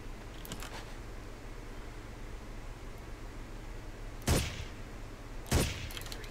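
Two sharp gunshots from a rifle in Ghost Recon, spaced about a second apart late in the clip over a quiet hiss of ambience, loud and abrupt with no talking.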